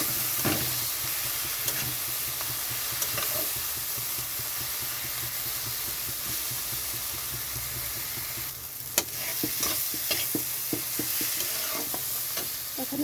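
Ground spices such as cumin and turmeric sizzle steadily in hot oil in a pan for a fish and pointed gourd curry, with repeated scraping stir strokes and a brief louder clatter partway through, no talk.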